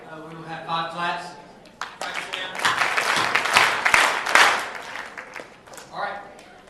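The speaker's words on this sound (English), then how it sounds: "After each candidate speaks, we will have 5 claps." A school assembly audience at a junior KUNA candidate speech event claps in unison after a speech, with a voice talking over the opening and closing moments and a burst of rhythmic group clapping in between.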